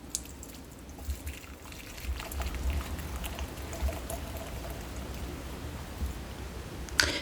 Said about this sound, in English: strain everything out into a large container